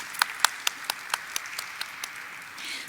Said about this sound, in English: Let's have a huge round of applause for sir, please.